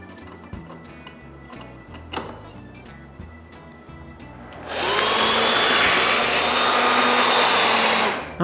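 A drill bores a hole through an interior wooden door for the handle hardware, kicking in loud and steady partway through after quieter workshop clicks and handling, then whining on continuously to the end.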